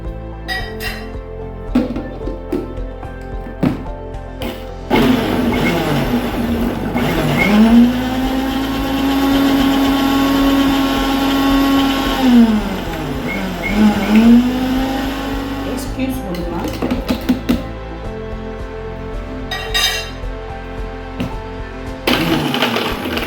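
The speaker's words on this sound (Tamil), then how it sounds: "இதை நம்ம அரைக்கலாம் பழம் போட்டாச்சு" A mixer grinder blends pineapple chunks for juice, its motor winding up to a steady high whine, holding for several seconds, then spinning down amid clinks and rattles, with talking throughout.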